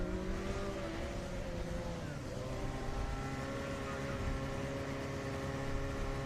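A Formula SAE race car on an autocross run at the 2024 competition, with a steady, buzzing engine note that climbs and falls slightly as it drives, continuous and moderately distant, alongside a commentator's voice.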